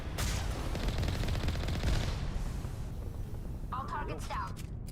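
Rapid automatic turret gunfire in the Mass Effect video game, a dense loud burst of rattling shots over a rumbling battle background, with a voice speaking near the end.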